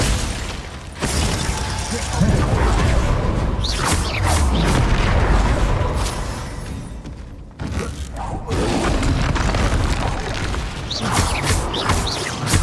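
Glacius ice spell cast during combat in the video game Hogwarts Legacy, amid a dense, continuous wash of magical booms, crashes and bursts, with a short lull partway through before the clamour resumes.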